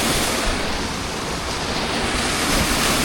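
A mountain stream in the Pyrenees of Andorra, below Coma Pedrosa, rushes past a small footbridge with a loud, steady, close-up roar of flowing water and no voices.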